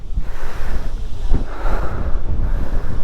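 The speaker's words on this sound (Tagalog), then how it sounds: "sobrang hangin dito" Strong wind buffets the microphone with a constant low roar and gusty rumble, loud and unbroken throughout, while riding a Honda Click V3 scooter.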